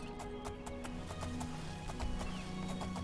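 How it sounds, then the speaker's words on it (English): Horse hooves clip-clop at a steady rhythm while riding in Elder Scrolls IV: Oblivion, with a brief whinny in the game world over a low continuous background of game ambience. "So we've got a horse, and it makes things a little bit faster."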